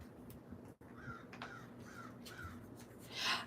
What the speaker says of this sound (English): I even hear the crows are out there